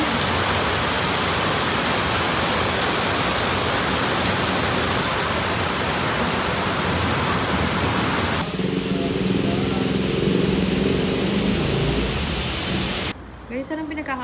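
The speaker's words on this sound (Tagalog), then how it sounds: "Kaso na ulan." Steady heavy rain pours down on a surface during a rainy day in Biñan, a dense continuous hiss that drops to a lighter patter midway and then thins out near the end, with a faint voice briefly audible.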